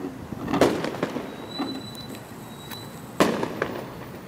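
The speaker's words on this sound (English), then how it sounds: "Hey, aren't those fireworks illegal?" Illegal fireworks go off in a street at night during a police checkpoint, several sharp bangs and crackles at moderate distance, with two louder reports and whistling streaks in between.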